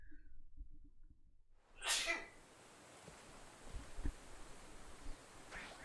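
One loud, sharp human sneeze bursts out close to the microphone after a near-silent start, then fades into a quiet, soft background hiss.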